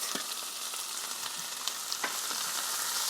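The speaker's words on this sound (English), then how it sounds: "I'm going to saute the veggies" Onions, peppers, tomatoes and other vegetables sauté in a hot pan for Jamaican ackee and saltfish, giving a steady close sizzle with occasional stirring scrapes and clicks, no voices.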